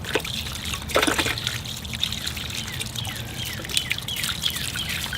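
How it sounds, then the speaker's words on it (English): Watering can pouring water over bonsai roots to wash them, a steady close trickle and splash, with birds chirping in the background outdoors. "So I'm going to wash the roots now. I've just got my watering can here"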